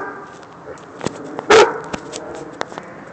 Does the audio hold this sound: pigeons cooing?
no